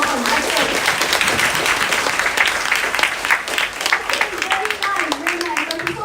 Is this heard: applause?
yes